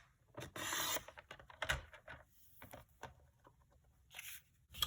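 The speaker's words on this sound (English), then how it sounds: "I'm going to put this pointy corner right along the track so that when I cut, that should shave off a little triangle" A paper trimmer blade slides along its track and shaves a small corner off card stock, giving soft close scraping and rasping strokes with light taps and rustles. Everything is quiet and there is no talk.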